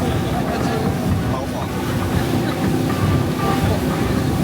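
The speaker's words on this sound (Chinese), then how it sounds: "有点坐快艇的感觉了" A speedboat roars steadily across rough, choppy sea off Kotor, Montenegro, with constant rushing spray and wind noise and no pauses.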